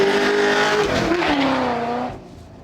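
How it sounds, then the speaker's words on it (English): A Ford Mustang GT launches off the line on a track, its V8 roaring loudly with a rising rev and some tire squeal before the sound drops away as it moves off. "Now we're only gonna do some short hops here to see just how the car leaves the line."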